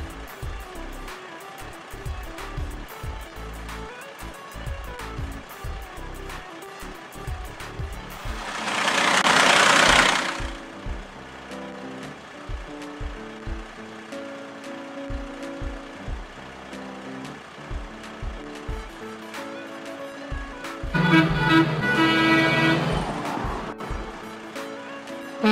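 A log truck engine in a children's video game drones steadily as it climbs a mountain, with cartoonish music and sound effects and two bursts of louder hissing noise.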